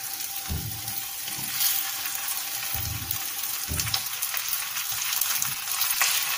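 Homemade khachapuri pastries fry in a spoonful of oil in a pan, a steady close sizzle and crackle with a few soft bumps of handling, with no talking.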